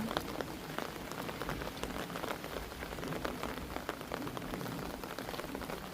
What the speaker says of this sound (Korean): 비가 와서 우비도 못 입고